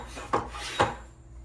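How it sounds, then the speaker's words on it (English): A hand pump builds vacuum for an oil change with two short, raspy strokes close by, roughly half a second apart, against a quiet background. "So now I gotta create vacuum with the pump again."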